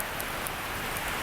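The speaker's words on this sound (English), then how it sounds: "Like it is pouring down." Heavy rain pours down onto the ground outdoors as a steady, dense, close hiss with no voices or other sounds.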